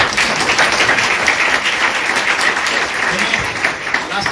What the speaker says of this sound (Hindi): और एक ताली बजाएंगे यीशु के लिए जोरदार।